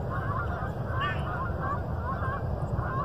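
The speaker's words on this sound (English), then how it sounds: "And those are the geese are flying, aren't they?" Geese honk repeatedly overhead as a flock flies past, their calls moderately loud and evenly spaced over a steady low outdoor rumble.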